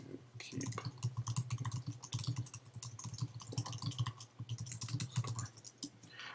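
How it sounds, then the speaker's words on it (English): Rapid, continuous typing on a computer keyboard, dense clicking keystrokes close to the microphone over a low background hum. "So I'll just type in"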